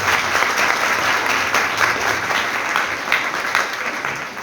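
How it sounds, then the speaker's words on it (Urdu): A church congregation at a Sunday Mass claps loudly and continuously, a dense, even round of applause filling the space with no voice over it. "جنہیں آتا ہے ان کے لیے زوردار تالیاں ہو جاتی ہیں"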